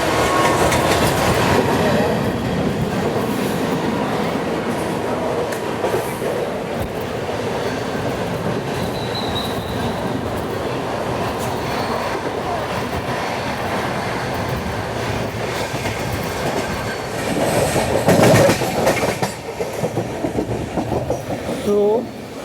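The Mumbai Amravati Superfast Express rumbles along the rails, a loud, continuous carriage roar with clickety-clack wheel beats, growing briefly louder near the end.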